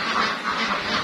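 White egg-laying ducks in a pen give off a dense, continuous wash of raspy quacking and hissing noise, loud and close for about a second.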